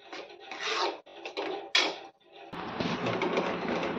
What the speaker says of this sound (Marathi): खाली चिटकू नये म्हणून सारखं हलवत राहायचं।